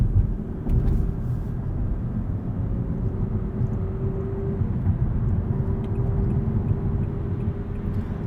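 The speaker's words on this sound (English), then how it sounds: "No problems getting up to speed here with the variable compression turbo." A 2020 Nissan Altima 2.0 Turbo with variable compression accelerates onto a highway, a steady drone of engine and road noise heard from inside the cabin, with a slight rise in tone and no voices.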